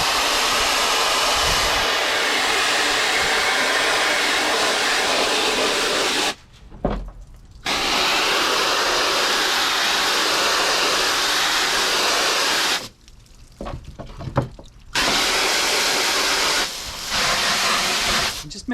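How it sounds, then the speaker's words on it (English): A strong, steady hiss of water spraying from a regular garden hose on a half vertical setting onto a screen, loud and close, stops briefly twice before resuming. "I'm just using a garden hose, just a regular garden hose, here on half vertical setting"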